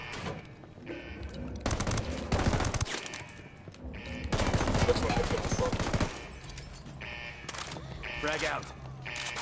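Rapid bursts of automatic gunfire in Ghost Recon Wildlands, loud and sustained in several long volleys with short pauses between, mixed with game effects and a voice talking over parts.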